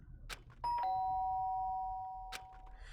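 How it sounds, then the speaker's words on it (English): Doorbell in Danganronpa: Trigger Happy Havoc, a single ding-dong chime with a long decaying ring, clean and fairly quiet, bracketed by soft clicks and low background hum. "The sharp sound of the doorbell pierced my sleepy haze and pulled me back to the real world."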